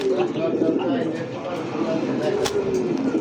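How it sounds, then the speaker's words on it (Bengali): Pigeons cooing at a busy pigeon market, soft repeated coos close by under steady crowd chatter and people talking throughout. "সেই একটা কবুতর দেখেন, দেখছেন ভাই"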